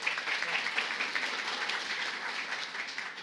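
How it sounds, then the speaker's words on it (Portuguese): Applause for Jesus from a small group after a spoken Lord's Prayer, a fairly quiet, steady patter of clapping hands lasting a few seconds with no voice over it. "Aplausos para Jesus."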